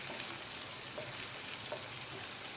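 Ginger garlic paste fries in a pan for a chicken fry, a continuous close sizzle and crackle holding steady throughout, with no voices.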